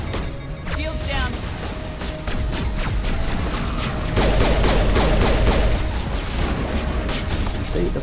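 Pistol gunfire in the video game Mass Effect fires as a rapid series of sharp, loud shots during combat, mixed with heavier booms and impacts that grow denser toward the end.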